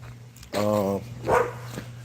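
An American Presa dog, a brindle male, lets out a deep drawn-out bark or whine followed by a shorter second bark, close and fairly loud over a low hum.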